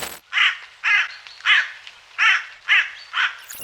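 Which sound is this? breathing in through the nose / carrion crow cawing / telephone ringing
carrion crow cawing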